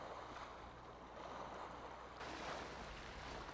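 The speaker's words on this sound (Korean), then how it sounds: "바위 해안에는 날마다 강한 파도가 밀려온다." Strong waves surge against a rocky coastline as a steady, hissing wash of surf, rising slightly partway through, with no voices present.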